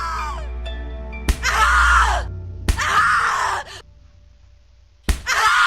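A woman screams in agony again and again in the horror video game The Cat Lady, several loud, drawn-out cries each set off by a sharp hit, with short pauses between them.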